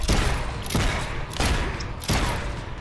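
Gunfire in the video game Fable III, four heavy booming shots spaced about two-thirds of a second apart, loud and close with decaying tails.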